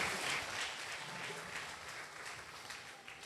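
A church congregation at a golden jubilee celebration claps steadily and loudly, a dense continuous wash of applause filling the space throughout.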